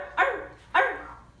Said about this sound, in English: A little more bark.